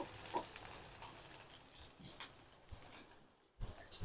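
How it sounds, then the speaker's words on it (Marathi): Capsicum slices flipped over in a pan of oil, a soft crackling sizzle that fades gradually, broken by a few light knocks and a sharp clatter near the end, fairly quiet and close. "तर आता मी हे सगळे असे मिरचीचे काप बघा अशी पलटी करून घेते"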